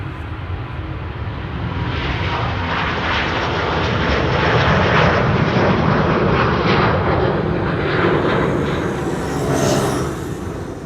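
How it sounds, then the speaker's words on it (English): A China Southern Airlines Airbus A350 at Amsterdam Schiphol Airport produces a broad, steady jet roar at moderate distance, swelling and then easing slightly, with no talking over it. "China Southern Airlines to Guangzhou in China, there it is. A350."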